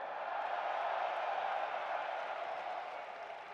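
A crowd at an EVO 2023 fighting game watch party cheers and yells in a steady, loud roar that holds for a few seconds and eases slightly at the end.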